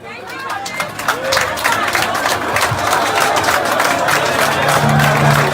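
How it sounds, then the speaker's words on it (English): A crowd at a Liberian gathering applauds alongside cheering and general chatter, a broad, loud mass of clapping and voices that swells and holds steady, with talk mixed in. "let's give our people a hand of applause"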